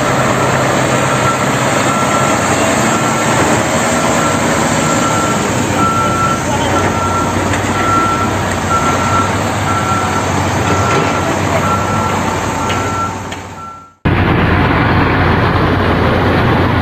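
A concrete mixer truck runs loudly and steadily at close range, its engine rumble mixed with a repeating reversing beep, then cuts off abruptly near the end before a different engine drone resumes.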